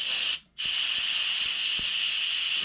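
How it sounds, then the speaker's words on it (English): Steam hisses steadily from hot cooked food, a loud, close, continuous broadband hiss that briefly cuts out and resumes, with a few faint soft knocks underneath. "It's steam. It's hot."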